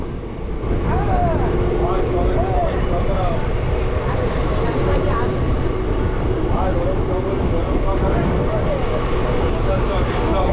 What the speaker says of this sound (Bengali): এই হচ্ছে মেচেদা থেকে আমাদের ট্রেন ছেড়ে দিল